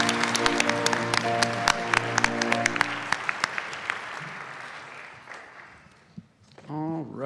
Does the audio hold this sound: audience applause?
yes